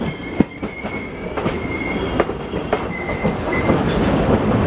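Maharashtra Express passenger train running on rails, heard from on board: a loud steady rumble with repeated clickety-clack wheel knocks and a thin wheel squeal riding over the top.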